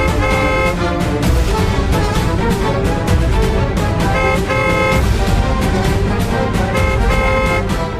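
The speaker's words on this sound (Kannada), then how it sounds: "ಸರ್ಸು ಅವಾಗಿಂದ ಹಾರ್ನ್ ಮಾಡ್ತಾನೆ ಇದ್ದಾನೆ" A car horn blares insistently on a road, a dense, loud, nearly unbroken honking with only brief pulses and dips, sounding close and dominating the scene.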